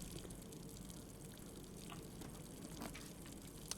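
Running water in the boiler room of the video game Blue Prince, a steady, even rushing wash that holds at a constant low level throughout, with no talk.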